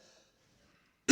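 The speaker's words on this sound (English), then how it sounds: "I have a bit of a cough here" A single short, loud cough or throat-clearing burst from a lecturer presenting on cost-schedule risk analysis, arriving abruptly at the end after near silence.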